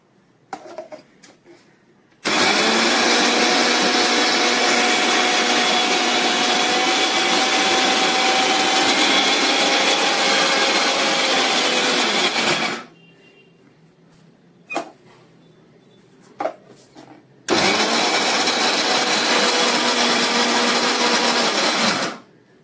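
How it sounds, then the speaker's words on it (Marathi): A kitchen mixer grinder working on soaked urad dal with green chillies, running loud and steady for about ten seconds, stopping for a short quiet gap with a few knocks, then whirring again. "हे आता मी मिक्सरला लावून घेते."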